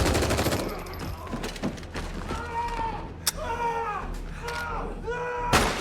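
Gunfire from The Punisher: One Last Kill video game, rapid bursts of shots and heavy impacts in a steady barrage, loud and close, with mechanical clanks between volleys.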